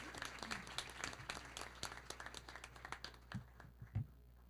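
An audience at a school board meeting applauds a wrestling coach of the year with a dense patter of clapping that thins out toward the end, leaving a few louder isolated claps near the microphone.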